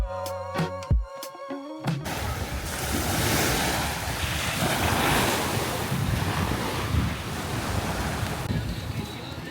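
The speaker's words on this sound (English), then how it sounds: "Here we are at the beach with crystal clear water." A few tonal knocks open before steady surf takes over: waves of clear water on a beach in Andalusia, Spain, wash and roll continuously with wind buffeting the microphone, loud and close.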